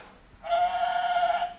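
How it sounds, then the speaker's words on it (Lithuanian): A recorded sheep bleat played from a children's animal sound book: after a brief quiet moment comes a single sustained, wavering baa, close and clear with no talk. "avis,"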